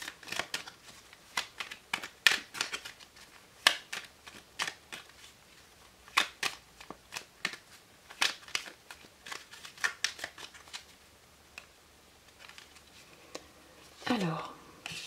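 Lenormand cards are shuffled before a four-card monthly reading, giving brisk, irregular bursts of close riffling and slapping that continue throughout, with a short voice near the end.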